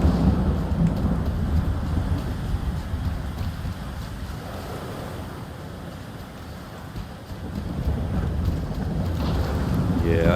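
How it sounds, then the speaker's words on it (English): Low rumbling thunder rolls through a stormy scene in the video game Stalker 2: Heart of Chornobyl, heavy and sustained over wind and rain noise, swelling again near the end. "Hopefully not get struck by lightning. Thunder."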